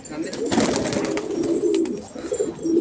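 Pigeons eat broken biscuit pieces nearby, their soft cooing and pecking scuffles continuous and close, with someone talking over them.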